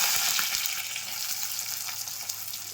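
Chopped onion, green chillies and curry leaves fry in hot oil as a tempering. The oil gives a steady, loud, close sizzle that carries on throughout.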